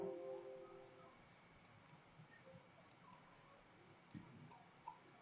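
Soft computer mouse clicks while saving in a vehicle maintenance tracking program, a few light paired ticks spaced over several seconds against a quiet background.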